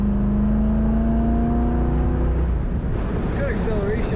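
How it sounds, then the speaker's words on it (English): A 1966 Ford Mustang convertible accelerates on the road, its engine drone rising in pitch and growing steadily louder, with a steady whir and road noise beneath it. "Good acceleration in this car."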